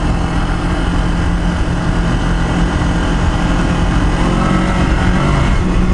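A Kawasaki Versys-X 300 twin-cylinder motorcycle engine while riding, a loud, continuous low drone with wind rush that holds steady throughout.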